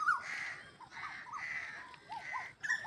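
A bird calls repeatedly in a village in the evening, its harsh, cawing notes coming in short bursts about every half second, fairly loud and close, with other birdsong in the background and no talking.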